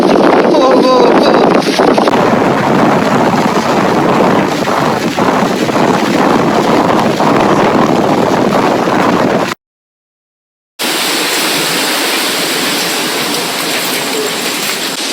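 A strong storm wind sweeps over Saint Martin's Island during a cyclone. Continuous loud blustering roars against the microphone with a rain-like hiss, cuts out briefly, then resumes slightly softer.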